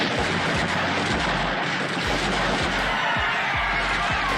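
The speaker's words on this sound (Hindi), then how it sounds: "बिना किसी चेतावनी के कर्नल डायर का आदेश मिलते ही सैनिकों ने गोलियां चलाना शुरू कर दिया।" Repeated gunfire from soldiers firing on a crowd at Jallianwala Bagh in 1919, sharp shots cracking at irregular intervals over a dense, continuous roar of noise.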